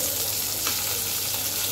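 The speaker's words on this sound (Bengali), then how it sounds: "চলো আগে আলুটাকে একটু কয়েক মিনিট ভেজে নেই।" Potatoes fry in a pan with a brief, steady hiss that sounds watery.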